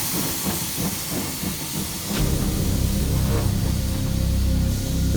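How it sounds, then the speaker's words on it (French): A steam locomotive at a station hisses loudly and steadily, with chuffing beats at first giving way to a continuous roar of escaping steam, close and alone. "La mythique rythmique d'une véritable machine vapeur."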